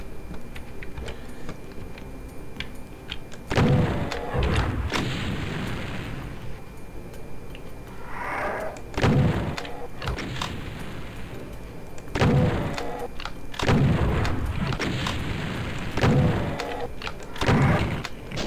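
Gunfire in a battle with a Revenant in Doom II, played in GZDoom, with repeated loud shots and blasts bursting out at irregular intervals.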